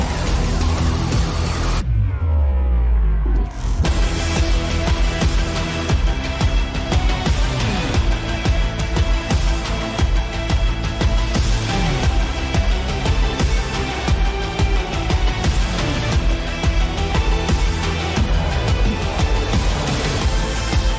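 Loud, dense electronic music from the Battlefield 4 main theme with a heavy low-end drop that cuts out briefly, then a layered melodic section carries on steadily to the end.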